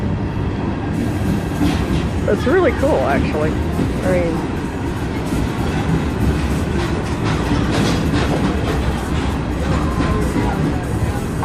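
A train rolls through a town's entertainment district, its steady low rumble and rail clatter continuous and fairly loud while people nearby talk over it.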